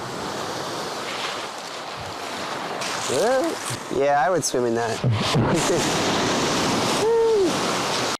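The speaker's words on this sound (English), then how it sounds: "We're gonna start hearing the sea a lot" Steady wash of sea waves on a Sicilian shore, with people talking over it in the foreground.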